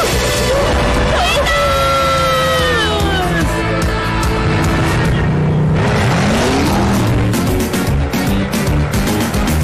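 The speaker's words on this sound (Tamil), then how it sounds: "என்ன மாதிரி ஒரு சின்ன ரேஸ் காருக்கும் உன்ன மாதிரி ஒரு பெரிய இன்ஜின்க்கும் ரேஸா?" Animated race between a small racing car and a big train engine, loud revving engines and rushing motion with pitch sweeps and skidding, mixed with dramatic music and voices throughout.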